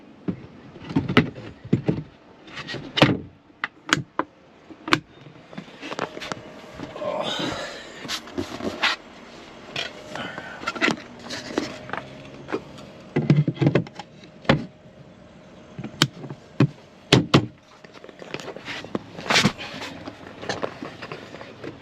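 Repeated sharp knocks, clunks and sliding scrapes of Goosegear drawer system doors being fitted into place in an LX450 80 series Land Cruiser, irregular bursts separated by quieter handling noise.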